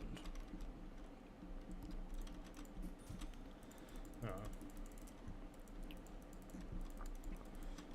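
A mouse cable rubs and scrapes against computer keyboard keys at a desk, giving a rapid ratchety clicking and rattling that runs steadily and close throughout.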